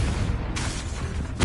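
Confringo blasting spell blasts in Hogwarts Legacy, a dense booming rumble with a crackling burst midway and another loud hit at the end, close and continuous.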